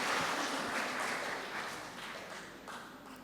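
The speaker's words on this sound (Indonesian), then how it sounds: "Tepuk tangan dulu untuk prokantor dan pemusik muda kita." A congregation at a Sunday church service applauds young cantors and musicians, with a burst of scattered clapping that thins out over a few seconds, faint and roomy.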